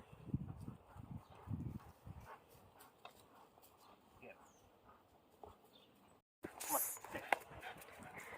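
Dogs in a backyard panting and moving about up close, with soft breathy bursts early on, then quieter rustling and a brief gap before louder activity resumes; no speech.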